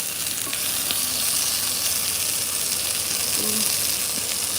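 Vegetables for pinakbet fry and are stirred in a pan with small dried fish, making a loud, continuous close sizzle with occasional scraping stirs and faint background sounds.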